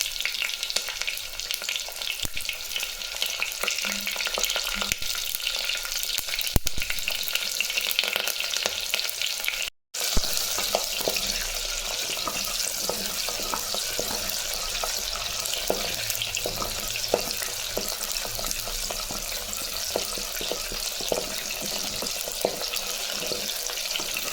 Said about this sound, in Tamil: இப்போ சின்ன வெங்காயம் போட்டுக்கலாம்